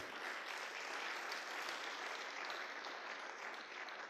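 A crowd claps steadily, a dense wash of applause that holds evenly throughout without voices standing out, heard from a moderate distance.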